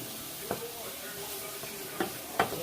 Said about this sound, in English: I'm just going to toss this in this olive oil